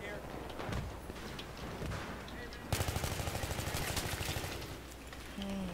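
Repeated shotgun blasts in a Battlefield 3 multiplayer match on the Seine Crossing map, a dense burst of loud rapid booms over continuous battle noise, with talk in the background.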